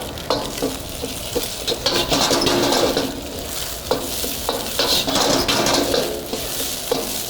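Carrots and other vegetables stir-fried for noodles in a hot pan, a steady loud sizzle with repeated scraping and tossing strokes of a utensil against the metal, close and without talk.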